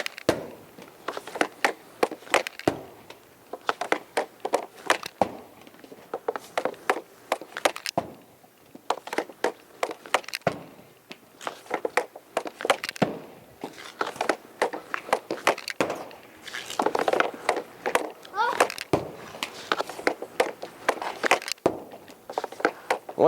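Hockey pucks are fired at a Sniper's Edge shooting target, giving sharp cracks and clatters that come in irregular bursts, some in rapid succession, with short pauses between.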